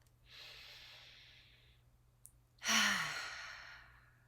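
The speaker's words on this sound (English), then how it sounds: "Let's take one more breath." During an EFT tapping session, a long soft inhale is followed by a brief pause and a louder, fuller sighing exhale, close to the microphone with no talk.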